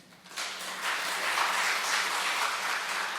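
Congregation applause after an announcement at a church gathering, swelling in quickly and then holding as a steady, fairly distant wash of many hands.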